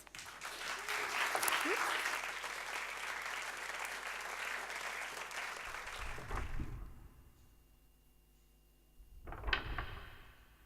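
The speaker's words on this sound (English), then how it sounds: "Please welcome with a huge applause Dale and Lotus Chapels." Audience applause welcoming speakers at an evening show: loud, dense clapping fills the first six seconds, then dies away to near quiet before a short second burst of claps near the end.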